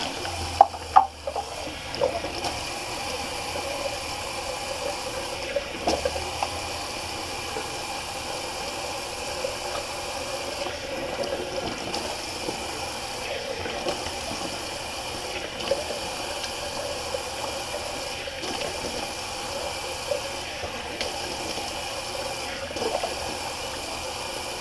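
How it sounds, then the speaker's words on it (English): Cold tap water runs into a bathroom sink during a rinse while wet shaving, a steady moderate hiss and trickle lasting throughout, with a few small clicks and knocks near the start and occasional faint handling sounds. "cold water rinse."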